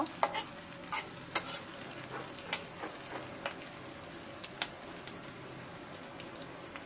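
Onion and garlic frying in a pan until brown, a faint sizzle broken by repeated sharp scraping clicks from a stirring utensil at an uneven pace, no voices.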